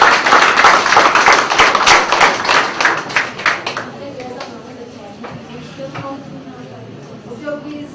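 Guests applaud at a Rwandan wedding: a dense burst of clapping for the couple that thins into a few scattered claps and fades after about four seconds, with voices talking underneath.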